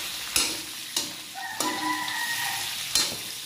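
Chicken gizzards fry in hot oil in a pan with a steady sizzle, broken by several sharp scraping stirs of a utensil; no speech.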